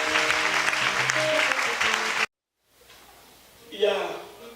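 A church congregation applauds in a dense, steady burst of clapping that cuts off abruptly, followed by quiet room noise and a brief swell of voices.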